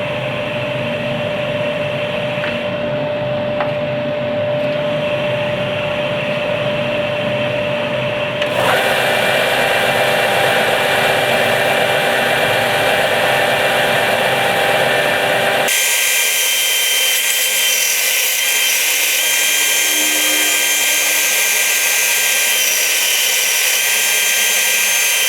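A Ryobi belt and disc sander runs with a steady, loud motor whir and abrasive rasp that shifts in character twice as the load changes, continuous and close with no talking.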